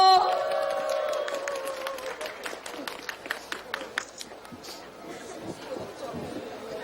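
Crowd at a Korean presidential campaign rally in Chungju applauding and cheering, a dense burst of clapping with voices that thins out over several seconds while crowd chatter carries on.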